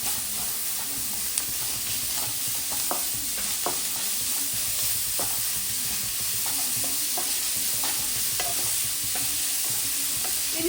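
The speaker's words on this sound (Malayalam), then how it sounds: "അതും ചേർത്തിട്ട് നന്നായിട്ട് മിക്സ് ചെയ്യാം." Grated carrot being stirred into paneer upma in a hot pan, a steady sizzle and hiss with repeated scraping of the spoon against the pan, close and continuous, with no voices.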